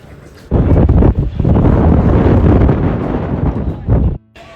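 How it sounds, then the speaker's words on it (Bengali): Strong wind gusts outdoors at the Taj Mahal mosque grounds, roaring and buffeting the microphone loudly for about four seconds before dropping away abruptly. "আজকের ওয়েদারটা এত সুন্দর কি বাতাস মনে হচ্ছে ঝড় বৃষ্টি আসবে"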